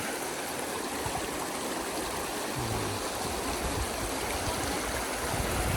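Water pours steadily over a small weir built to mimic a waterfall at a riverside campsite in Pak Chong, Korat, a constant broadband rushing that stays loud and unbroken throughout.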